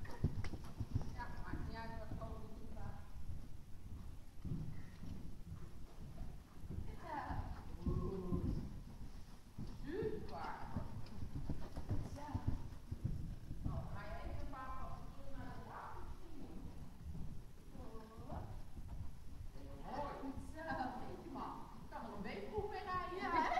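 Horse hooves clop steadily on a hard surface while people talk nearby throughout.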